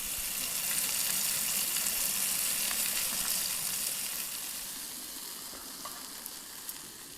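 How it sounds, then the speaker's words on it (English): Steady, crackling sizzle of steak searing on a hot grill, close and fairly loud, easing slightly toward the end with no voices. "let's see if we've got a nice sizzle."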